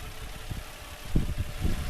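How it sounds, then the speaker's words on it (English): A 2002 Infiniti I35 engine idles steadily close by, a low, even rumble with a few soft pulses rising through it, and no voices over it. "Engine sounds really good."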